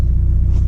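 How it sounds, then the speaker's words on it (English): A manual car's engine rumbles low and steady with a pulsing throb as the clutch is released and the car pulls away, close and loud, the brief stretch holding only engine sound. "release the clutch slowly until the car starts moving"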